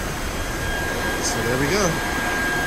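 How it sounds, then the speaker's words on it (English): A vacuum cleaner roars steadily and loudly while cleaning the interior of a Jeep Compass being prepared as a rental car, with someone speaking briefly over the drone. "Vacuumed out the inside."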